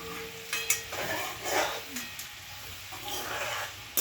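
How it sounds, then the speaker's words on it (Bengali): Potatoes frying in oil in a pan, a soft, faint sizzle with a few clinks and scrapes of a utensil, close and quiet, with no voices. "আমরা এরকম করে ভেজে লাল লাল করে একটু উঠিয়ে নেবো চাকার তেল থেকে"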